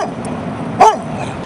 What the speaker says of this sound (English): Dogs love the tire and they chase it and they bark at it